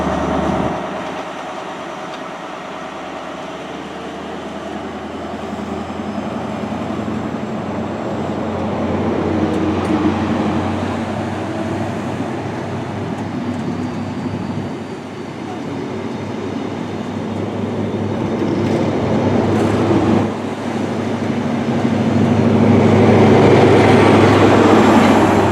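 A Class 43 CrossCountry high-speed train bound for Paignton pulls out of Chesterfield station, a steady, loud engine rumble with rolling wheel noise that swells and builds toward the end.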